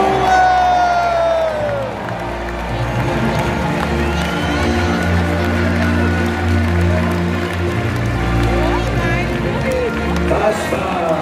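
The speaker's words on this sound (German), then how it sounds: "Jubel!" A large outdoor crowd cheers and roars at the close of a knight tournament show in Kaltenberg, Germany, with a loud, sustained din of voices and whoops that holds steady from start to finish.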